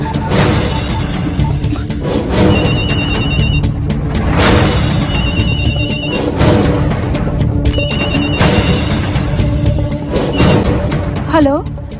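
A telephone rings with repeated electronic tones in a Hindi-dubbed South Indian action film, heard over loud dramatic music and effects while people speak.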